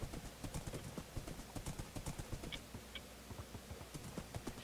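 Horse hooves clip-clop steadily in the Minecraft video game, a quick, even run of soft thuds that carries on for several seconds over a faint background hum.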